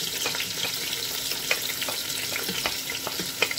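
Onions sizzle in a hot pan for pancit, a steady broadband crackle with small pops and spatula scrapes scattered throughout, close and continuous with no voices.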